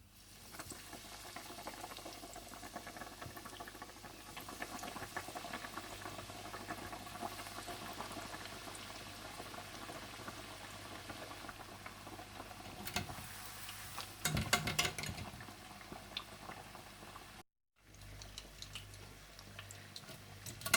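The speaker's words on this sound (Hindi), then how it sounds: "इसके बाद आप तेल को गर्म कर लीजिएगा और फिश को खूबसूरत सा गोल्डन ब्राउन करते जाइएगा और निकालते जाइएगा" Fish pieces fry in hot oil until golden brown, a soft, continuous bubbling sizzle with occasional clicks and clatters, fairly quiet and close.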